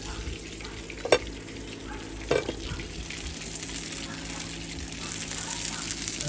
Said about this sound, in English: And we're gonna fry this piece up.